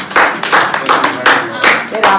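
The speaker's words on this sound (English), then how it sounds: "Let her clap." Hand clapping from a small group at a school Teacher's Day celebration, a run of sharp claps close by, with voices talking underneath.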